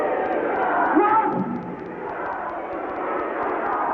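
Wrestling crowd in Wildwood, New Jersey roaring at a ladder match, a broad wash of cheering and shouting that peaks early then settles into a sustained rowdy din, with a voice speaking over it.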